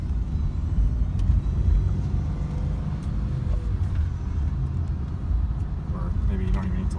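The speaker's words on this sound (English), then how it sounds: "power steering." Power steering on a 2006 Subaru Forester whines faintly beneath a loud, continuous engine rumble that stays steady from start to finish, with brief talk over it.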